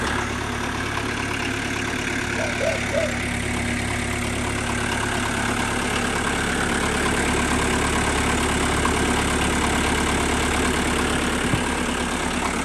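A homemade tractor engine, built with a Golf 4 engine, idles steadily and evenly in cold weather for several seconds, a constant low rumble without changes in pace.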